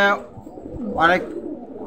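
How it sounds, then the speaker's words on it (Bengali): Pigeons sold at a market coo close by in short throaty bursts, with one louder coo rising in the middle over a low background murmur. "দেখেন একদম হাই কোয়ালিটি কবুতর দর্শক এখানে"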